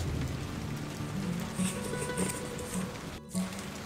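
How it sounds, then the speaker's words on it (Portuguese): Steady rain sound effect in a children's story reading, a dense continuous hiss of falling drops with faint low rumbles underneath, no speech over it. "deixa abertas todas as torneiras e continua a chover."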